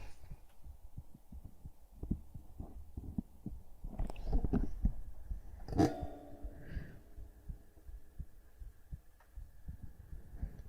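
A heartbeat throbs faintly and steadily as low soft thumps, with scattered handling noises and a brief louder rustle midway.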